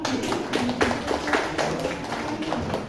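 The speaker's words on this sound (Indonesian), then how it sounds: "Kasih tepuk tangan dulu" A small group claps in a brisk, uneven rhythm for a few seconds, close by, with no voices over it.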